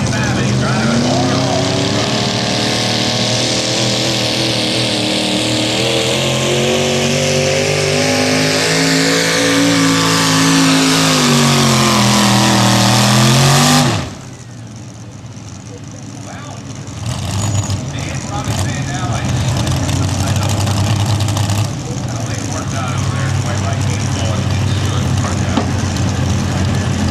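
A pulling truck's engine roars at a truck and tractor pull, loud and sustained with rising and falling pitch, then cuts out abruptly as a crowd and announcer carry on over lingering engine noise.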